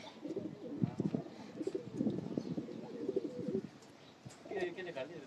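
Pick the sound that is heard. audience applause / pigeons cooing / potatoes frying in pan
pigeons cooing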